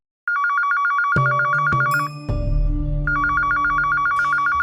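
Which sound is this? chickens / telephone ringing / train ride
telephone ringing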